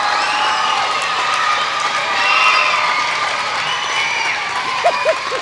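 School crowd of children at an intermediate school claps and cheers for a nurse, with shrill voices, whoops and shouts layered over steady applause, loud and lively throughout.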